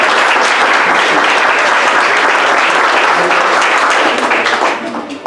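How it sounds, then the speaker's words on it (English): A loud, dense round of applause for the staff at Mamacita's restaurant during a club gathering, many hands clapping steadily before trailing off near the end. "let's have a nice round of applause for Mamacita"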